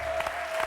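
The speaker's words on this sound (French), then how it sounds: "je voudrais juste une fois qu'on applaudisse Baryton" A French television game show studio audience bursts into brief applause for a contestant, a dense, steady clatter of many hands lasting under a second.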